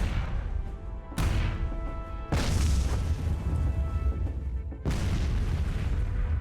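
Heavy artillery fire in the sci-fi train RTS game Miners Mettle: three loud booming shots with long rumbling tails, spaced a second or two apart, with no talk over them.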